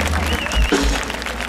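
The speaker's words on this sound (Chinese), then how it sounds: "拉志工，我们也给他们掌声鼓励。" An outdoor crowd at the Amis Music Festival in Dulan, Taitung claps for the volunteers, a steady wash of applause with a whistle and low stage rumble mixed in.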